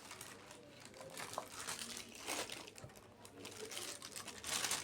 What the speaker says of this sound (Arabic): جبت كيس وفتحته فتحه من تحت، ودهنته دهنه زيت خفيفه كده